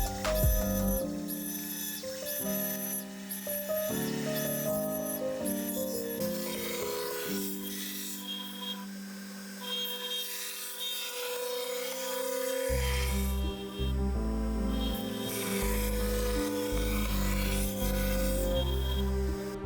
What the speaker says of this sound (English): just standing and watching the machine cut